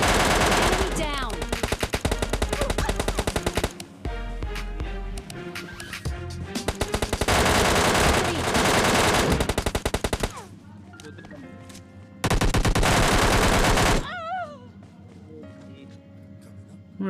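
Automatic gunfire from PUBG Mobile Lite, including an MK14 rifle, rattles in long rapid bursts separated by short pauses, with someone talking over parts of it.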